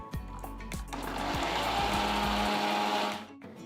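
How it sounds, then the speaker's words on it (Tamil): Kitchen mixer grinder grinding a masala paste for garlic kulambu with no water added, a loud steady whirring drone that spins up, runs for about two seconds and then winds down. "ஃபஸ்ட்டு நான் தண்ணி இல்லாமல் தான் அரைக்கிறேன்."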